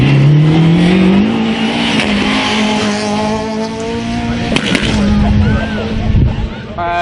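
A front-wheel-drive rally car engine revs hard and climbs in pitch, loud and close, with tire noise and a voice speaking over it.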